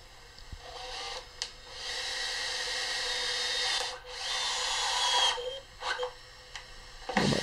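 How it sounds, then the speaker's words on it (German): A cordless drill with its clutch set to limit torque drives screws into tee nuts mounted in a loudspeaker, giving two steady, close whirring runs of a few seconds each with brief clicks between them. "Am besten den Akkuschrauber so einstellen, dass die Kupplung"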